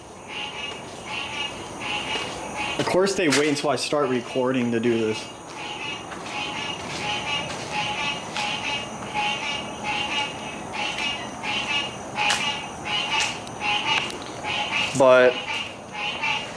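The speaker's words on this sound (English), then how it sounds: "And them frogs are going crazy." Frogs croaking loudly at night in Florida, a dense repetitive chorus of pulsing calls running steadily throughout, with someone speaking over it partway through.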